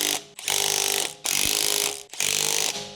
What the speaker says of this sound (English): Use a 19 mm deep socket with an electric impact wrench to tighten the wheel